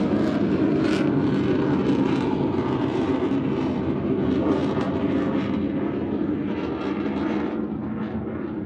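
A fighter jet pulls up hard at an air display during NATO Days 2022. A loud, continuous roar holds steady throughout with no voices.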